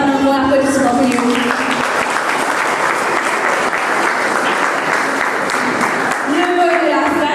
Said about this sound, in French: Je voudrais entendre un mot applaudissement pour lui.